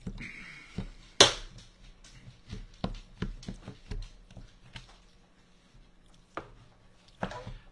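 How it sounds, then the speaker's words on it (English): A knife chops cooked, moist chicken into bite-size pieces for chicken noodle soup, giving a series of sharp, close knocks on a cutting board in uneven bursts, with quieter pauses between runs of cuts. "Now I'm just chopping it up to bite size."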